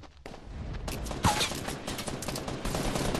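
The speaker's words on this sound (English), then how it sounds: "Oh, they're shooting at me." Gunfire in a shooter video game, with bursts of rapid automatic shots and scattered single cracks over about three seconds, fairly loud and close with a sharp report near the middle, no talk.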